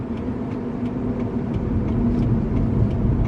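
Road traffic heard from inside a car stuck in traffic, a low steady rumble of engine and tyres rising slightly, with faint repeated ticking on top and no talk.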